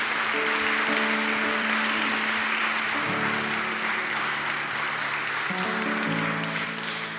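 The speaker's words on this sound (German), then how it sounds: "Geben wir ihm einen herzlichen Applaus." An audience gives warm applause after a talk, steady dense clapping throughout with music playing underneath, fairly even in loudness.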